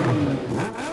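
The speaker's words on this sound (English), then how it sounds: "These screaming machines are highly modified European Opels." Highly modified European Opel stunt cars rev hard at a live motor stunt show, a loud close engine scream that swells and dips over a single burst.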